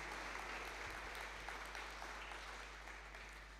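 A church youth congregation claps together in a steady, dense wash of applause, faint and distant, with a low electrical hum beneath and no talk.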